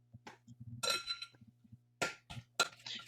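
A spoon stirs and clinks against a bowl while deviled egg yolks are mixed with mustard, mayonnaise and black pepper, giving several short scraping clinks in bursts, close and fairly quiet, with no talking.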